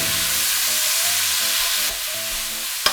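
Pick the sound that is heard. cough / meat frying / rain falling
meat frying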